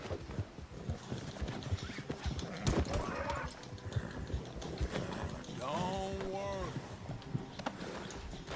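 In the video game Red Dead Redemption 2, an Arabian thoroughbred horse plods through snow with steady, close hoofbeats and gives a clear neigh midway, while a voice talks faintly underneath.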